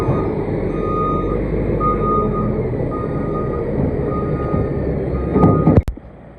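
A tractor rolls and compacts a silage clamp, its engine rumbling loudly and close while a steady, evenly spaced reversing beep repeats about once a second over the heavy machinery noise.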